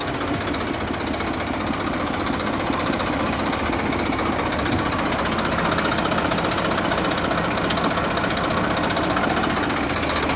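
A Massey Ferguson 241 tractor, a 2010 model, runs steadily with a loud, close, continuous diesel chug and knocking rumble that holds even and unbroken throughout, with no talk.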